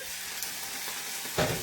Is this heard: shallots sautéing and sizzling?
yes